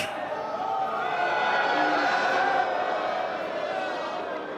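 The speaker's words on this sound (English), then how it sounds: "The crowd is getting electric." Esports arena crowd at a League of Legends playoff match between T1 and Movistar Koi, a dense roar of cheering and shouting that swells slightly and then holds steady, fairly loud throughout.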